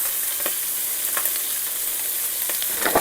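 Onions added to a pan of crisp bacon sizzle with a steady broadband hiss, broken by a few soft scraping stirs, close and fairly loud, no talk.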